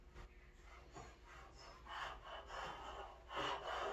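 A No. 3 hand plane shaves across a small wooden countertop with rough, rasping strokes, several soft scraping passes building to a louder swipe near the end, close up with no talking.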